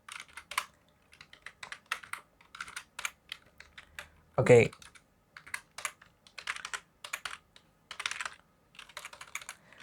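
Clicky keystrokes on an unfamiliar computer keyboard during coding, typed in quick bursts with short pauses, close and fairly quiet, with a brief spoken word in the middle.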